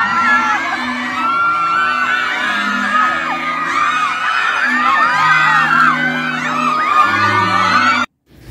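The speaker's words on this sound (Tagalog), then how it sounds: "Grabe ang hiyawan ng kanilang mga fans nang makita sila ng malapitan." Fans at a movie premiere night scream and cheer in a loud, continuous, high-pitched roar. Excited shrieks and whoops layer over each other for about eight seconds, then cut off sharply.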